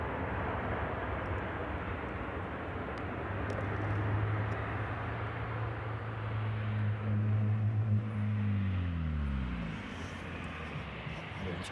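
A Jet2 airliner at East Midlands Airport produces a steady, distant engine roar with a low tonal hum that slowly rises and then fades. Talk is heard over it.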